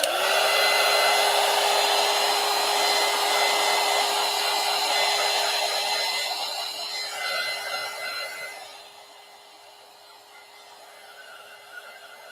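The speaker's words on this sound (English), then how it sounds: "Now let's dry this to make sure that gold's dry." A hair dryer blows steadily to dry gold paint on a collage journal page, a loud, constant whir with a steady tone that drops in intensity toward the end as it moves away or is eased off.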